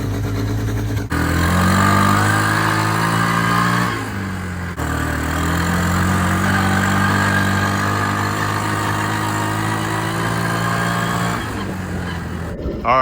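Engine of a Kymco MXU 150 ATV that sat for over eleven years, running steadily nearby with a loud idle, brief dips and rises in revs, heard alone without speech.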